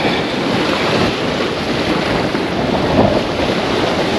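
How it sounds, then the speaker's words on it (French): Sea waves break against a fishing jetty during a surfcasting session, a steady loud wash of surf and spray with wind buffeting the microphone throughout and a slightly stronger surge near the end; no one speaks. "je suis mouillé, j'ai mangé un coup de vague."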